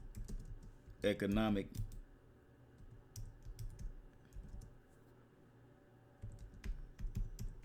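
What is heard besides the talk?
typing a search on a computer keyboard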